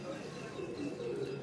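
Lowflyer Chatri pigeons cooing softly in a loft in Faisalabad, low throaty coos repeating close by against a murmur of background noise.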